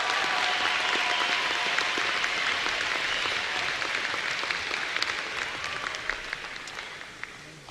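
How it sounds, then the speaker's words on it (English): A graduate commencement ceremony audience at Southeastern gives a full round of applause: dense, steady clapping from a large crowd, sustained throughout and easing off slightly toward the end. "I think we owe you another round of applause and congratulations."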